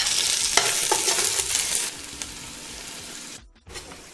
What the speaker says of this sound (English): Now add in the chopped onions and saute till it turns light brown.